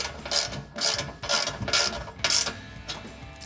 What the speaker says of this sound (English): we'll snug up that bolt right behind the tow hook, driver's side